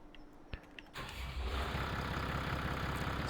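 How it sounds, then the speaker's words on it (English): A tractor engine in Farming Simulator 25 cranks over briefly after a few faint clicks, then catches and settles into a steady, rumbling idle that stays close and fairly quiet. "so let's get the tractor out"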